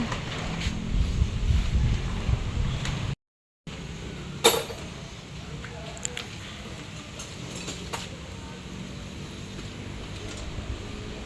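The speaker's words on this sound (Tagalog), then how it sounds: "Ang hangin po, oh. Malakas." Strong outdoor wind buffeting the microphone at a motorcycle repair stop, a continuous rushing roar with gusty swells and a brief dropout, no speech over it.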